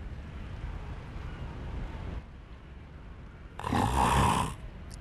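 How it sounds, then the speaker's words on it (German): A character snoring in the video game Dark Souls 3, a single loud snore that swells for about a second near the end over a low game ambience. "Das ist mal ein Schnarchen."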